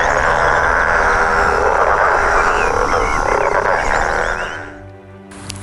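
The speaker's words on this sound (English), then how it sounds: "The growling grass frog is most known for its evocative growling call." Growling grass frogs calling, a dense chorus of rasping, growling croaks, loud and continuous, overlapping into a thick droning wall of sound before tapering off near the end.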